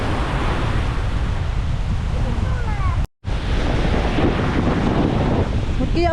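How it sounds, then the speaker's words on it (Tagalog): Big ocean waves break on a beach under the strong amihan monsoon wind: a steady, loud surf roar buried in heavy wind buffeting on the microphone, with a brief dropout midway and faint voices. "yung mga alon ngayon ay sobrang laki"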